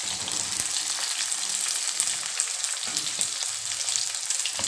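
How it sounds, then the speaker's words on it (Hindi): Onions frying in hot oil, a steady close sizzle with small pops and crackles throughout, no talking. "प्याज डाल देंगे।"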